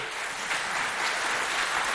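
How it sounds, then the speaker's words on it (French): Strong, steady applause from an audience warming up school quiz teams before a contest, a dense wash of clapping that holds evenly throughout with no talking. "On les applaudit bien fort pour les réchauffer."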